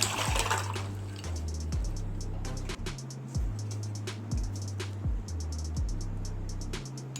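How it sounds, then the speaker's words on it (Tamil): Plain water is poured into a bowl of rasgulla with ice cubes, giving a steady splashing stream close by. It comes with repeated low clunks and sharp clinks as the ice shifts. "இப்போ நார்மல் வாட்டர் ஊற்றிடலாம்."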